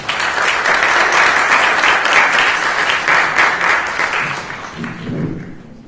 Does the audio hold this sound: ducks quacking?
no